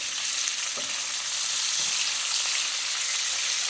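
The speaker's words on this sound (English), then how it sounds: "I'm just gonna put the beef in here to fry a bit" Lightly salted beef fries in a pan with a loud, even sizzle that holds steady throughout, with a couple of faint utensil taps early on.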